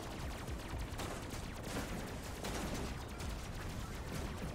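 In the Robocraft robot combat game, a steady wash of gunfire and bullet impacts keeps up without a break, dense overlapping shots with a few louder bursts standing out, and no one talking.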